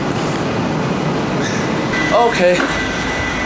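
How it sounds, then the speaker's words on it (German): A train pulling into a German railway station, its steady rumble rising with a couple of brief metallic squeals from the wheels, as a person says a short word nearby. "der Zug ist schon da."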